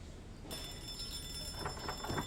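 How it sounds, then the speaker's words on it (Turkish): A telephone rings inside a house in the Hello Neighbor video game, a faint, steady electronic ring that starts about half a second in and keeps going over low background noise, with no talk. "Burada bir yerde telefon çalıyor."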